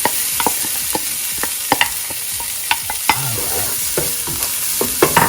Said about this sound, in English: Now we're going to go ahead and add in our onions.